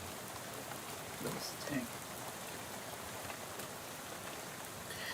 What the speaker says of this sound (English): soon you're dozing off to the sound of rain spattering on the window beside you